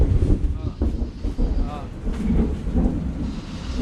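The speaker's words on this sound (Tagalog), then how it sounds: "hindi tayo makauwi, malakas yung ulan at mababasa tayo" Heavy rain with rumbling thunder, loud low rolling booms and a steady wash of rain throughout, with voices talking underneath.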